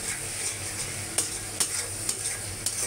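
Ginger garlic paste and ground spices for a country chicken curry sizzle steadily in a pan, with soft frying crackle and several sharp metallic clinks from stirring at irregular intervals, and no voices.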